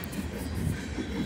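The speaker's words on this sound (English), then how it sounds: "This is a third train to roll through this town this week." A train loaded with military equipment rolls steadily through a town, a continuous loud rumble of railcars with a faint clickety-clack of wheels and no talking.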